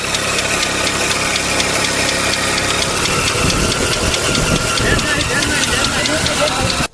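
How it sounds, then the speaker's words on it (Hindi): An old motorcycle engine, taken from a disused bike, drives an irrigation water pump on a farm, giving a steady, loud mechanical drone with knocking vibration and a hissing rush of flowing water throughout. "देखिए ये मशीन चालू हो रही है और देखते हैं कि ये देखिए मशीन चालू हो गई, पानी भी आने लगा"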